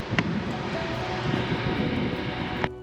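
A volcanic crater vent on Mount Papandayan gives a continuous deep roar, like rushing wind or a distant engine, holding steady throughout, with a couple of brief knocks.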